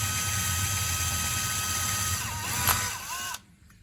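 A power drill with a tempered steel bit cuts a hole through a pot, a steady loud whine that rises briefly near the end, then cuts off abruptly into near silence.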